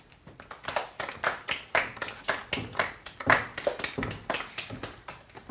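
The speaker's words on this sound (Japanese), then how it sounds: "拍手をお願いします。" An audience gives applause after a literary reading at a Japanese book event, with a run of rhythmic, moderately close handclaps from a small group lasting several seconds without speech.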